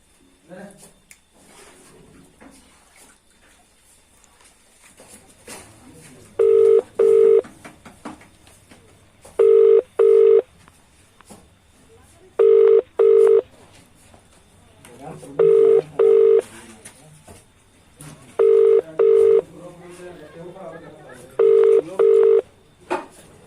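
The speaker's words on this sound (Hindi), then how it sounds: "ऐसा करता हूँ कि ठेकेदार के पास फोन ही लगाता हूँ" A series of electronic keypad tones, dialed in quick pairs with short pauses between, over a quiet room background with faint movement.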